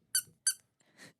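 Squeaky rubber duck earrings give two sharp, high squeaks in quick succession, followed by a softer, breathier squeeze, close and isolated with no talking.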